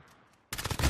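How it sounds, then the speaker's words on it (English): A pistol gunshot goes off in a video game, a sudden loud burst that cuts in after a quiet half-second and stays dense and harsh to the end. "Got me with a pistol."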